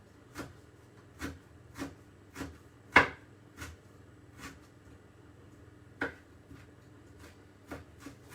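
Ginger being finely chopped with a knife on a board, a steady series of crisp, close knife taps at roughly half-second intervals, one sharper louder strike among them, no talking.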